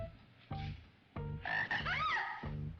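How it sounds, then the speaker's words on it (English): A frog croaks in a B-movie scene, a series of loud, close, rasping croaks in short bursts with a warbling chirp in the middle, no talking. "Oh, it's a frog?"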